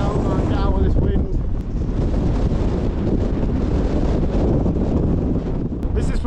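Strong, steady wind buffets the microphone on an exposed fell summit at Branstree and Selside Pike in the Lake District, a loud continuous low roar with gusts throughout.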